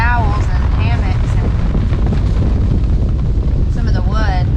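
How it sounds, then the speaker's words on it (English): Strong wind gusting at a lakeside campsite on Kerr Lake, a loud continuous roar of wind hitting the microphone, with faint voices briefly audible beneath it. "it's super windy now"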